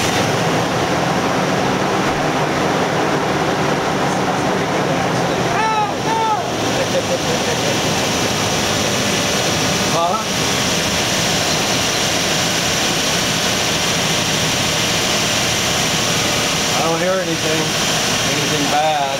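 A Toyota Land Cruiser's 2UZ-FE V8, after a botched timing-belt job, fires up for the first time and runs rough: a loud, continuous engine roar with uneven, lumpy pulsing and brief dips, close by throughout.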